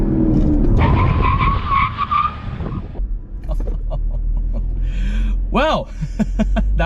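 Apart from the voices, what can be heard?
Chevrolet Camaro SS hard brake test from 60, tires skidding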